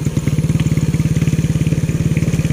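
A motorcycle engine idles close by, a loud, even, fast chugging pulse with no voices over it.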